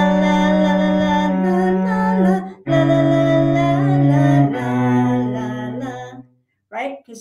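A cello sounds long sustained whole notes on the third of each chord, four steady bowed tones in a row, close and full, followed by a brief vocal sound after a short pause.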